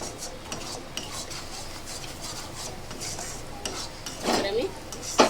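Fried fish roe masala is stirred in a pan, with soft scraping and light sizzling, occasional metallic clinks of a utensil against the pan, and a louder clatter near the end, close up.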